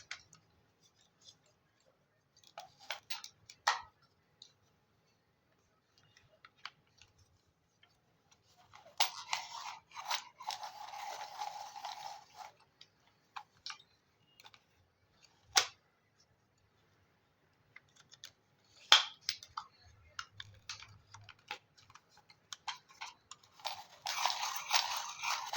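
A pencil is sharpened in a quiet room, with scattered soft clicks and short bursts of dry, gritty scraping that come and go, including a longer grind in the middle and another at the end.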